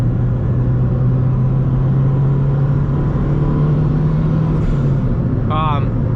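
Honda D series engine in a cheap turbo Civic project, droning loudly and steadily at a constant pitch, close up, with a brief chirp near the end.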